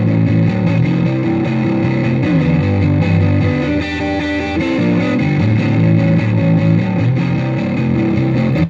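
Electric guitar played through a Fender 65 Deluxe Reverb amp model rings out in loud, dense, continuous chords and riffs with a gritty, slightly distorted edge, sustained for several seconds without any talking.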